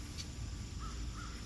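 Crows caw in a backyard, two short calls spaced apart over a steady low outdoor hum, fairly faint and with no talking.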